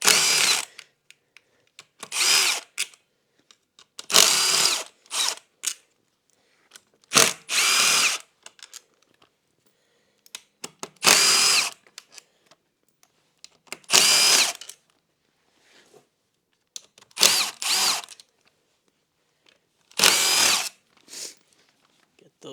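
Power drill fitted with an 8mm socket backing bolts out of a Honda Ruckus scooter, sounding in repeated short bursts of high whirring with brief pauses between, close and fairly loud, with occasional ratcheting clicks.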